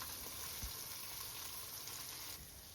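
Karaage chicken pieces fry in hot oil, giving a steady, quiet sizzle with a dense crackling hiss and no voices.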